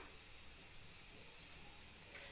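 Mustard seeds and cumin frying in hot oil give a steady, soft hiss and sizzle that stays level throughout, close and moderately quiet, with no talking.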